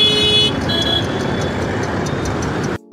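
Dense, loud road traffic at Raj Darwaza on a busy city street, a steady wash of engines and passing vehicles with faint horn tones, cutting out briefly near the end.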